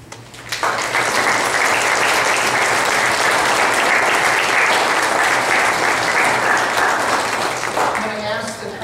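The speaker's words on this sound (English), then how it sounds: "Applause is a sign of our affirmation." A church congregation at Sunday worship in West Salem, Wisconsin bursts into loud, sustained applause that starts abruptly, fills the space for about seven seconds and fades, with a voice speaking as it dies down.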